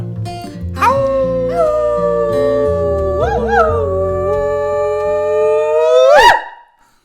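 Several people imitate wolves howling at the moon, long overlapping voiced howls rising and sliding in pitch, loud and close, then ending in a sharp yelp before fading.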